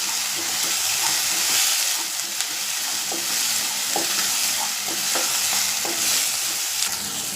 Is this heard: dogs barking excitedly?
no